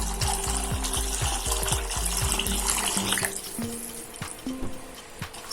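Water poured from a tumbler into a pressure cooker for tomato rice with basmati, a close, steady pouring stream that tapers off into a few smaller splashes and trickles.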